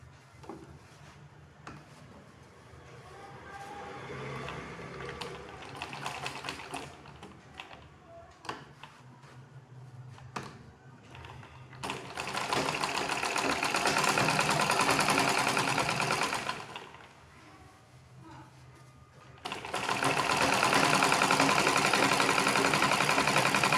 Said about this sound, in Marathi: आणि शिलाई मारून घ्यायची.